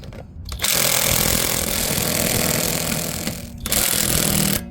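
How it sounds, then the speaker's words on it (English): An impact wrench hammers at lug nuts on a 2008 Honda Odyssey, giving two loud, close rattling bursts, the first long and the second brief. "Even though I got an impact, I go ahead and break these loose before I jack up the vehicle"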